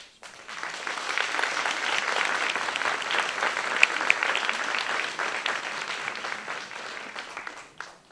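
Sustained audience applause at a fashion show, a moderately distant crowd clapping evenly for several seconds before tapering off.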